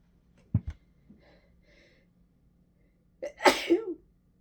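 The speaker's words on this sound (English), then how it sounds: "Ooh, and I feel a sneeze." A single human sneeze, with a couple of small sharp breaths first and then a loud burst after a brief lull, close to the microphone in an otherwise quiet room.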